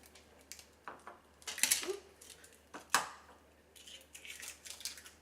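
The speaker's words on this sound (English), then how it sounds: "Do you want to help me crack eggs?" Eggs cracked one after another against a bowl for keto pumpkin pie, a few sharp taps and shell snaps with light clinks between, close and quiet in a kitchen.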